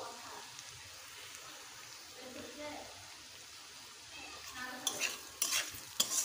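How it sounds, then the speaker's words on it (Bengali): Turmeric and Kashmiri chili powder with salt frying in a pan for a rohu fish curry, a faint low sizzle that gives way to louder scraping stirs and clinks near the end. "ভালোভাবে মশলাটাকে কষে নেব"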